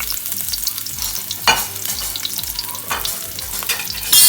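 Sliced garlic and small onion sautéing in olive oil in a pan, a close, steady sizzle with a few sharp stirring scrapes and clatters over the crackle, no talk.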